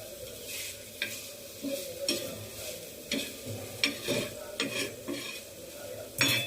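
Octopus masala is stirred in a pan over a soft sizzle, with repeated rhythmic scrapes and clinks of a spoon against the metal, about one stroke each half second to second.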